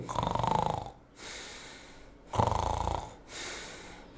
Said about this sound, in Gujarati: ઘણા લોકોને આ રીતે ખૂબ નસકોરા બોલતા હોય છે